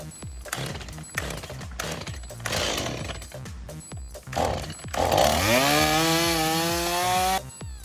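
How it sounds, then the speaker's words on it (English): A newer Stihl chainsaw cutting bushes sputters in short bursts, then revs up into a loud, sustained high-pitched whine with a rising engine tone, cutting close by. "I go to my Stihl first because it's my newer of the chainsaws."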